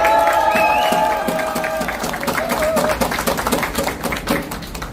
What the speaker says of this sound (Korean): 여러분 우리 최재형 목사님 힘내시라고 박수 한번 쳐주십시오.